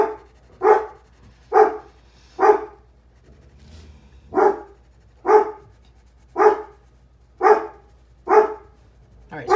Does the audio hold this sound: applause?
no